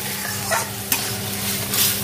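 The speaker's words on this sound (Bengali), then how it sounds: "এবার এইভাবে নাড়তে নাড়তে মশলাটা পুরো কষে যাবে।" Spiced young jackfruit stirred and fried in a pan, a steady close sizzle with scraping spoon strokes against the metal and a few brief clinks.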